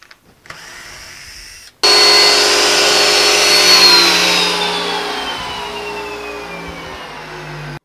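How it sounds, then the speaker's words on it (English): A thickness planer flattens the second face of live sawn maple boards in a loud, steady machine roar. The pitch shifts as the cut begins, then the sound fades slightly as each board feeds through, with a brief motor hum beforehand. "we're ready to run these on the other side now to flatten them out"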